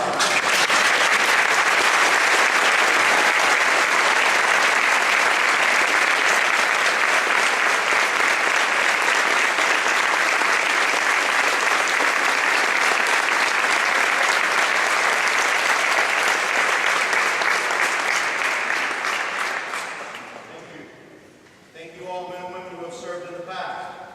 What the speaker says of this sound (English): everyone join me in showing your appreciation with a round of applause